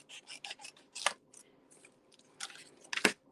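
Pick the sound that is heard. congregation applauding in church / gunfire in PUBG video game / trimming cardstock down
trimming cardstock down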